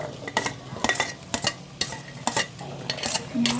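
Bell peppers, peas and potatoes tipped into a hot pan for palak pulao, sizzling steadily while a utensil stirs and scrapes against the metal in repeated short strokes, close and fairly loud, with no talking.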